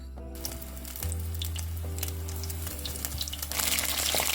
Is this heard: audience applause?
no